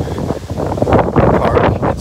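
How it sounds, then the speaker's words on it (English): Loud, steady wind buffeting the microphone outdoors, a broad roaring rush with gusty surges throughout. "windy, very windy outside"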